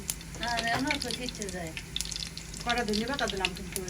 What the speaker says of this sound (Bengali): আমরা ডালের বাগারের জন্য জিরা দেওয়া হয়েছে তেলের মধ্যে